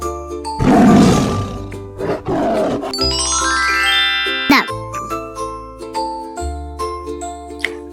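A cartoon tiger gives a loud, rumbling roar near the start, followed by bright jingling chimes and tinkling notes over a bouncy musical backing.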